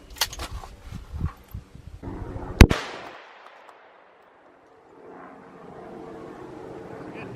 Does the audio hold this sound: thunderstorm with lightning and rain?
no